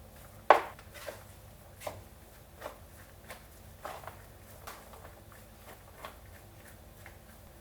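A paddle works sushi rice in a wooden oke tub, making a sharp first knock and then soft, irregular taps and scrapes at a steady, gentle pace, quiet and close.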